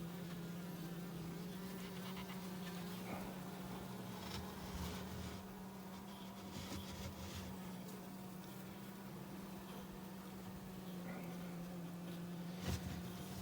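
Honey bees drone steadily around a hive in midsummer heat, a faint, continuous low buzz with occasional louder passes of single bees and no voices.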